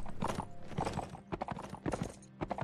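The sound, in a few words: horse hooves clip-clopping in Warband video game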